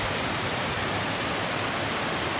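Spring meltwater pouring down a waterfall beside the Beaver Brook trail on Mount Moosilauke, a dense, unbroken rushing roar heard up close without any talking.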